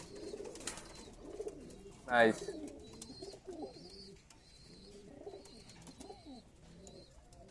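Pigeons perched around their lofts coo softly in repeated low phrases, with a person briefly speaking and a sharp rising noise in between.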